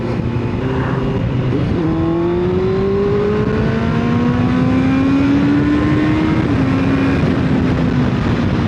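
A Honda CBR650R motorcycle with a Scorpion full-system exhaust accelerates hard to overtake on an open road in England, its engine climbing in pitch through the gears with a brief shift, loud and close over steady wind rush.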